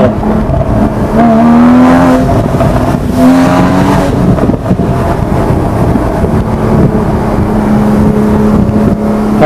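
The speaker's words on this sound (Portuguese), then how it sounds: "Ronco de 6 cilindros" Porsche Boxster GTS six-cylinder boxer engine roaring loud and close on the Estrada dos Romeiros in Brazil, with revving surges and a deep throaty drone.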